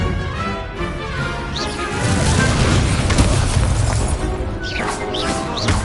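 Incendio fire spell blasts in Hogwarts Legacy on PS5 during a dueling tournament, loud crashing booms that build into a heavy, sustained barrage of impacts.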